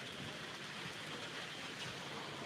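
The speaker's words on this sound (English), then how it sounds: "It's raining." Steady rain falling outdoors on an evening in Bangladesh, a dense, even hiss of drops spread across the whole clip with no voices, close and moderately soft.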